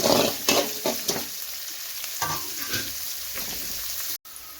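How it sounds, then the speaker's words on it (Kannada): Finely chopped onions fry in a pan with garlic for a vegetable palya, giving a close, steady sizzle broken by several sharp scraping stirs of a spoon against the pan. "ಈರುಳ್ಳಿ ಸ್ವಲ್ಪ ಫ್ರೈ ಆಗಬೇಕು"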